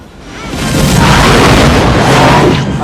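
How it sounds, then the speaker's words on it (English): A loud, rumbling film explosion swells and sustains with a deep roar and crackling debris, filling the whole clip. "I think these are real explosions superimposed on screen."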